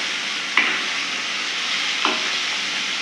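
Fish frying in a pan for Tirunelveli-style meen varuval, a steady close sizzle of oil hissing throughout, with two brief sharper crackles or stirring scrapes standing out against it.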